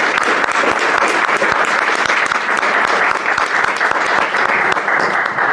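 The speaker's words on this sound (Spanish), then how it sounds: "un aplauso para quienes nos dan la posibilidad y quienes nos reciben" An audience at an art event claps for its hosts, producing sustained, loud applause with sharp individual claps standing out over a dense wash of hand noise.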